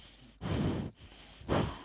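A pet breathes heavily and close on a microphone, two loud airy huffs separated by a brief pause, with no talking.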